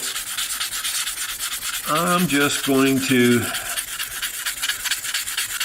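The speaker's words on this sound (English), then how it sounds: "I'm sanding it with my fingers." Steady scratchy rubbing of sandpaper held in the fingertips by hand on a surface, continuous and close, with someone briefly talking in the middle of it.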